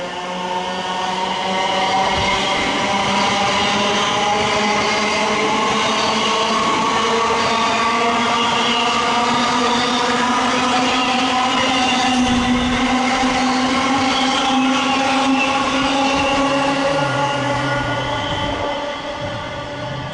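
A very long Thameslink Class 700 electric train, unit 700-134, runs through a station platform without stopping, a loud, steady rumble of wheels and traction whine sustained close by for the whole stretch, with faint squeal late on.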